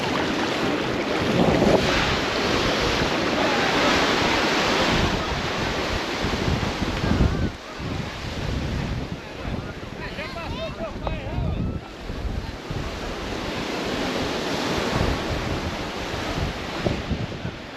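Waves wash and surf rolls at a beach in Rio, a continuous broad rush mixed with heavy wind buffeting close to the microphone, and faint voices are heard in the background.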